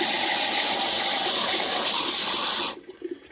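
Water gushes hard and steadily through a car's cooling system during a flush with a hose nozzle and small valve, loud and close, then cuts off abruptly near the end, leaving faint drips and splashes.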